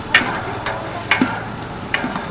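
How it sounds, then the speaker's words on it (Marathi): Cabbage and chopped onion are stirred in a pan for puri bhaji, with a spatula scraping out four soft, evenly spaced strokes over a faint background hiss. "आपण कांद्यासोबत थोडी कोबी टाकलेली"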